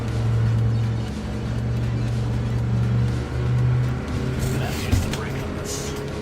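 Car engine droning while driving in the video game Neverness to Everness, a steady low hum that dips and rises as it revs, with a person talking over it.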